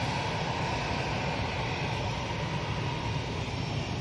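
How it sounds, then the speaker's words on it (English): An Embraer jet arriving from Guernsey at Manchester Airport makes a steady, broad roar that holds loud and even throughout, with no pauses or talk. "It's an Embraer today from Guernsey."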